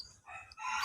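A fighting rooster crows in a short, rising burst near the end of a brief, quiet stretch.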